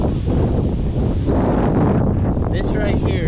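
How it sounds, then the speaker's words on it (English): Strong wind blowing outdoors, loud steady buffeting and rumble across the microphone, gusting throughout with faint rustling, no clear talk over it. "it's real windy"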